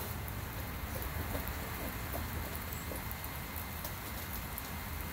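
Chicken wings sizzle in fresh oil, a steady, dense crackle and hiss that runs unbroken throughout without any talking.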